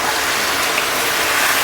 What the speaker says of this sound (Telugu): వాటర్ వేస్తున్నాను.